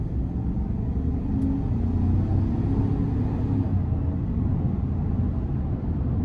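A 2024 Chevrolet Silverado 1500 RST Z71 with the 5.3 V8 accelerating on the road, a steady low engine rumble and road noise heard from inside the cab, continuous and even.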